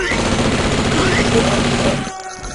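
A dense, loud burst of rapid gunshots rattles continuously in a first-person shooter game, a sustained volley that cuts off abruptly after about two seconds.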